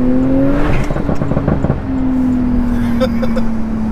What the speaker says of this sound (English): See, we're trying to launch with Michelin Cup 2s on.